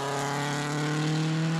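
A WRC rally car at Rally Ireland 2007 pulls away, its engine a steady, loud droning hum held at an even pitch throughout, with no voices.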